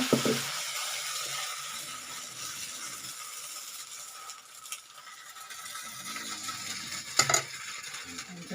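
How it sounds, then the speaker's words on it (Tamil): Bun dosa batter poured into a hot pan, a soft steady sizzle with a few light metallic clinks and scrapes of a utensil against the pan, quiet and close, no talking. "அதனால் இப்போ தோசை ஊற்றிடலாங்க இது பன் தோசைன்றதுனால கடையில் ஊற்றுறாங்க"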